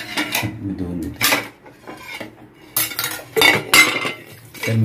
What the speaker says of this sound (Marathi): मी साहिलला तवा धुवून दिलाय.